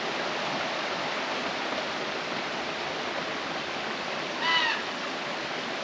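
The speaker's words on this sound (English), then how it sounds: "There's a nice little waterfall right there." A small forest waterfall below a swaying footbridge gives a steady, broad rushing wash that holds even throughout, with a brief faint chirping call rising near the end.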